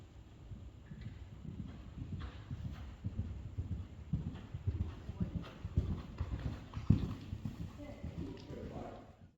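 A horse walks at a steady pace during a show jumping clinic, its hooves clip-clopping in a regular rhythm close by, with low rumbling movement and soft thuds throughout.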